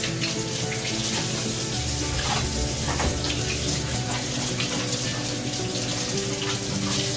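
Cabbage leaves are rinsed under a running kitchen tap, a steady close stream of water splashing and pattering over the leaves and into the sink without pause.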